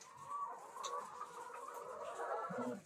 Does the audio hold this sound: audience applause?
no